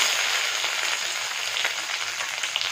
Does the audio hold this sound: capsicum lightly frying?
yes